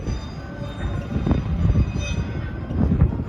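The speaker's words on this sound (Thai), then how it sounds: "รถไฟเอาของมาส่ง" A freight train rumbles past close by at Port Chalmers, New Zealand, heavy wheels clattering and thumping steadily on the rails, with a faint metallic squeal riding over the low roar.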